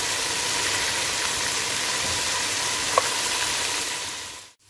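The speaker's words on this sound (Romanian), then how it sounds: "Și acum lăsăm să călească și ceapa." Steady, dense sizzling of onions frying in meat juices in a hot pan, continuous and close, with a faint clink partway through.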